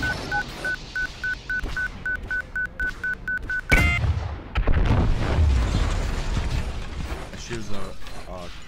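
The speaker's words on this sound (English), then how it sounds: "Alert, missile closing." Missile warning in the X3 Albion space game: a steady, evenly spaced electronic beep repeats for several seconds, then a heavy explosive boom cuts in, followed by rumbling combat noise.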